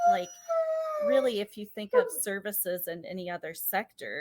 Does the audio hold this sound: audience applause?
no